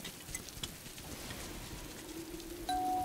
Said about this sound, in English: It simply can't rain. It's not raining. It's pouring.